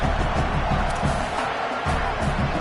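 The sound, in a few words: football stadium crowd cheering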